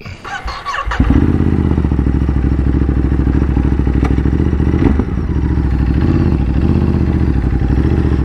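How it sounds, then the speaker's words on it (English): A Ducati Desert X motorcycle starts off for a ride up the road, a short clatter giving way to a steady, loud, close engine drone that holds with a slight dip in pitch partway through. "Let's just go for a little bit of a ride up the road."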